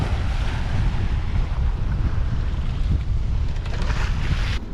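Strong 23-knot wind blasts across a lake, a loud continuous roar buffeting the microphone with churning water and wave noise underneath, steady throughout.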